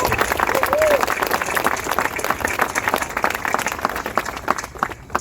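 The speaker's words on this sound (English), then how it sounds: "let's give him a round of applause" Steady applause from a crowd at an outdoor statue unveiling, dense clapping that holds at full strength throughout with faint voices mixed in.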